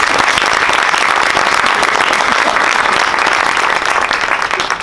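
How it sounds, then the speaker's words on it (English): An audience at a school assembly gives loud, dense applause for a performance by Year 5 children, continuous and close with no pauses, tapering slightly at the very end. "the biggest clap has to go to the wonderful children of Five"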